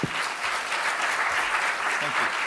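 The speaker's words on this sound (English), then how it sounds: "One more round of applause." A dense round of audience applause at a journalism conference on global elections and democracy, steady and continuous for a few seconds, with faint talk underneath.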